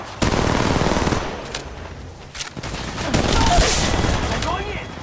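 Rapid gunfire in the Apex Legends Mobile video game, with dense automatic bursts and overlapping shots that rise and fall in intensity, along with game sound effects and some voice in the mix.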